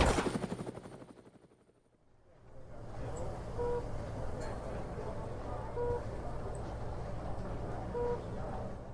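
Apache helicopter in flight, a steady broadband rotor and engine roar that swells in after a brief lull and holds loud and close, with faint voices beneath.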